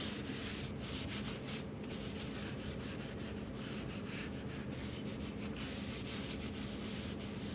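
A napkin rubbing oil into a wooden cutting board makes a continuous soft, close-up scrubbing swish with fast back-and-forth strokes, steady and unbroken throughout.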